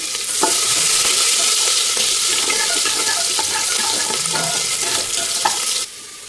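Onions frying in oil in a pan for mutton curry, a loud steady hiss of sizzling punctuated by light scrapes and taps of stirring, which fades slightly near the end, and there is no speech.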